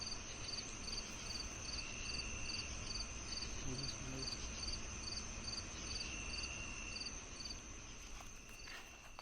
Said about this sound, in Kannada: ಅರ್ಧ ಸೊಳ್ಳೆ ಸೌಂಡೇ ಆಗೈತಿ ಇಲ್ಲಿ ಬ್ರೋ